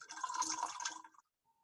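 Indicator liquid pours into a sodium hydroxide solution in a chemistry demonstration, a short close splashing, fizzing pour lasting about a second before stopping.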